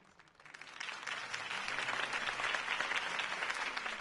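A crowd applauds a campaign speech in the Batman Telltale video game, with clapping that swells from quiet into sustained, dense applause and holds there, heard from a middle distance.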